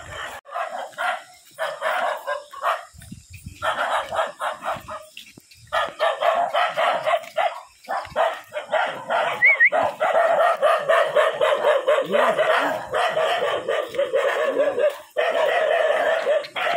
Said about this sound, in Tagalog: may mga aso po sila dyan